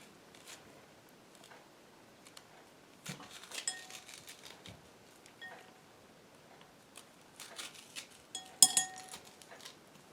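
Metal spoon scraping the inside of a cooked butternut squash in a pan, soft intermittent scrapes and clinks building into louder scratchy strokes, close up with no talking.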